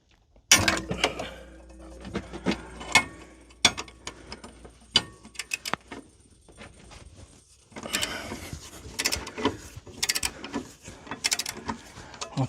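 Wrench clicking and clanking while loosening a bolt on the rear subframe of a 2002-era Mini Cooper S Cabrio, close-up ratchet ticks and metallic knocks in irregular bursts with short pauses between them.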